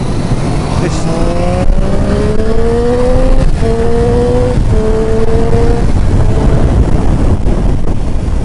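A 2014 Triumph Street Triple R motorcycle engine pulling in first gear, its rising tone climbing through several short revs over steady wind rush while riding.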